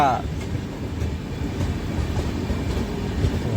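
A Sanghamitra Express passenger train rolls past close by, a steady heavy rumble with faint rhythmic clatter from the wheels.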